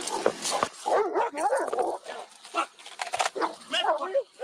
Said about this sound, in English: The canine handler gets closer with the police dog.